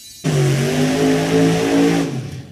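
Small block nitrous dragster roaring down the drag strip in a loud, steady, high-pitched engine wail that starts abruptly and fades slightly as the car pulls away.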